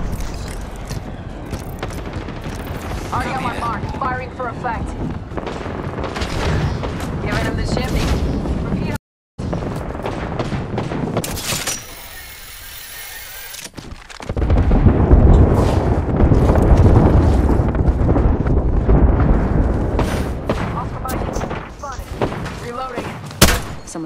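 Artillery strike explosions in Apex Legends on Xbox One, a series of deep booming thuds that swell into a heavy, rumbling barrage, with voices talking over the action.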